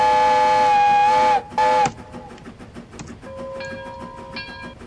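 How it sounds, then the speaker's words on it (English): A video game steam train hauling a long line of trucks sounds a loud, sustained whistle blast, then a short second toot, followed by softer whistle tones over rolling rail noise. "With a really, really big good train."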